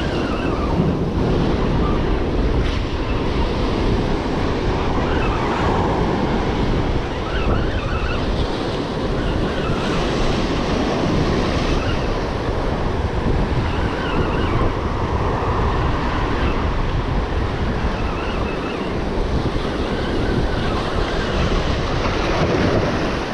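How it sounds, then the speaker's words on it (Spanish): High ocean surf breaking on a rocky shore during flounder fishing, a loud, continuous roar of waves filling the whole stretch with no talk. "las olas están altas"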